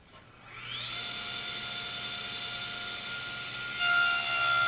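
A saw blade spins up and cuts box joint slots in a stack of boards clamped to the carriage of a screw advance box joint jig. A steady high whine rises quickly, holds, then grows louder and harsher near the end.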